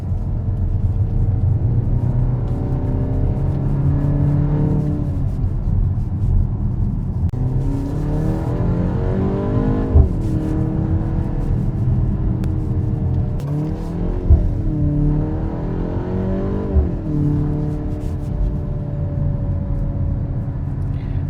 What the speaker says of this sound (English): And you even get some pops and bangs from the exhaust